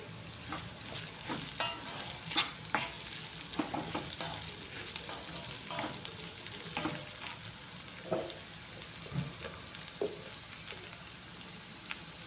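Curry leaves tossed into frying bitter gourd in a pan crackle and sizzle steadily, with scattered louder pops and spatters close by and no speech.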